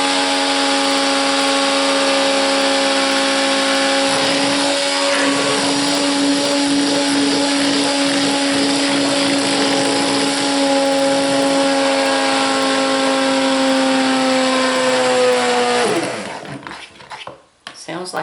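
Secondhand stick blender whirring steadily in a batch of homemade liquid soap of lard, castor oil, coconut oil, lye and kombucha, a loud continuous motor drone with a slightly strained pitch that fades and sputters off near the end.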